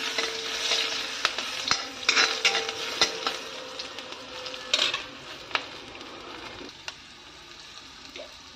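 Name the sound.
onion frying in a pan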